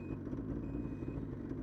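A Ski-Doo 600 E-TEC snowmobile shifts into reverse with its engine running low underneath. A steady electronic warning beep sounds twice, one short and one longer, close by and with no talking.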